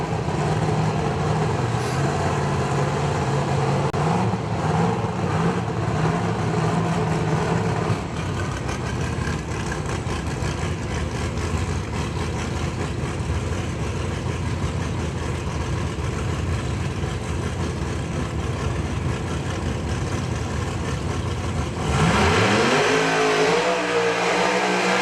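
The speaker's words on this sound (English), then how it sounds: "There's another car here with a screw blower on it I had not seen before." A screw-blower-equipped drag racing car at a PDRA test session at Maryland International Raceway: a loud, lumpy idle that holds for a long stretch, then swells into a rising rev near the end.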